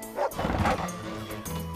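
Cartoon dogs bark and yip in quick bursts, loud and close, with a brief whimper, over a busy animated soundtrack.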